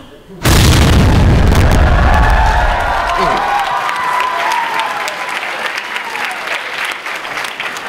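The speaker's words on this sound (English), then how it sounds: "Michael Bay Explosions, play me off." A sudden loud explosion bursts in, followed by a deep rumbling boom that slowly fades into crackling debris and noise.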